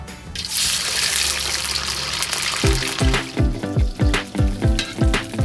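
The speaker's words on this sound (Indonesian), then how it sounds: "Teknik menggoreng baby fish sama seperti menggoreng ikan, butuh minyak yang banyak" Hot oil sizzles loudly and steadily as small fish fry in plenty of oil, with a burst of spattering crackle, then rhythmic metallic scraping and clinking of a utensil in the pan.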